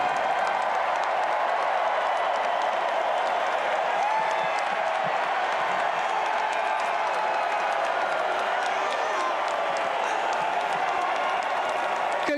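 A stadium crowd of Seahawks fans cheering and applauding a Super Bowl win, a dense, continuous roar of claps and shouts at full volume throughout, with voices blended into the noise.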